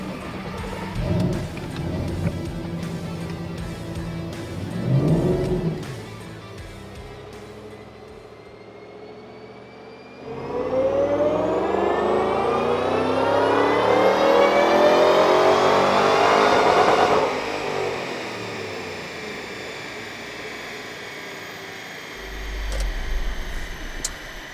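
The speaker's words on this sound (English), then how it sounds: "We're going to go hop on the dyno and make some baseline pulls." Stock 2012 Shelby GT500 engine on a dyno: a couple of short revs, then one long pull rising steadily in pitch for several seconds before cutting off, loud and alone with no talk.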